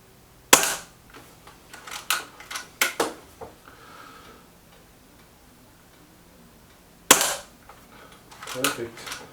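Sharp reports from a Weihrauch HW 100 air rifle firing pellets, two distinct loud shots several seconds apart with softer mechanical clicks and handling noise between them.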